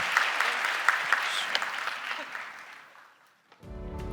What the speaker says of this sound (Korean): 우리 다시 한번 박수로 축복해 주시기 바랍니다